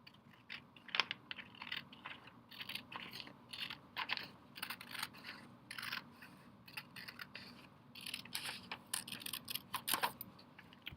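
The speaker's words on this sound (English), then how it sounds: "So on that folded line, you are going to cut it." Scissors cutting a folded piece of material apart into triangles, with repeated close, crisp snipping and rustling strokes in an irregular rhythm, no talk.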